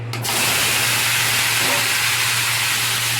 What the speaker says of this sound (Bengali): তারপর আমি সবজিগুলো, কেটে রাখা সবজিগুলো সব দিয়ে দিচ্ছি